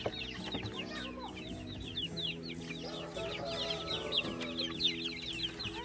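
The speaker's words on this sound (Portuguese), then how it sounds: "esses aí são os pintinhos de mais ou menos uns 2 meses" Chickens and roughly two-month-old chicks in a backyard flock cluck and cheep continuously, many close overlapping calls forming a steady busy chorus with no talk.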